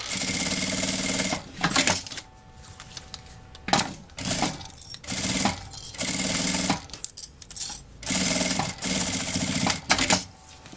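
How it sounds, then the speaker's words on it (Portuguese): Sewing machine stitching along the plastic edge of a small oral hygiene pouch, running in several loud bursts of rapid mechanical whirring separated by short pauses, close up. "Bem na beiradinha essa costura, tá? Só pra segurar o plástico."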